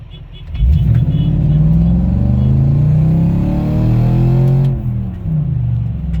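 A first-generation BMW X5 E53 SUV pulls hard away from a stoplight, its engine note loud and close, climbing in pitch through a long rev before easing off near the end.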